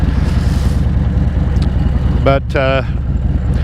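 Steady roar of a motorcycle engine and surrounding car traffic heard while riding, constant and close throughout, with wind-like rumble and a brief spoken word breaking through near the end.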